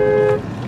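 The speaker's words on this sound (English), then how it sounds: "Honk at me, motherfucker. I'll honk back." A car horn sounds in one steady, loud blast lasting about a third of a second outdoors near a backyard, then cuts off into low background noise.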